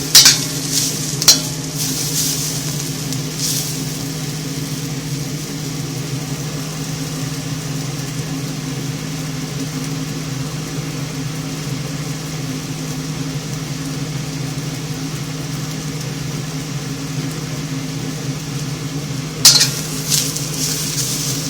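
Onions charring in a wok being seasoned on an electric stove: a long, steady frying hiss with a low hum beneath, marked by a few sharp utensil scrapes near the start and end.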